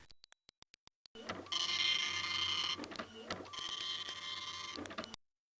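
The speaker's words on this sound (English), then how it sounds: "The cyber printer accepts your cyber file gratefully and begins to print." In the Space Quest 6 video game, a cyber printer runs. A few quick clicks lead into a steady mechanical whir, with a short clunk in the middle, and the sound ends in a final click with no voices.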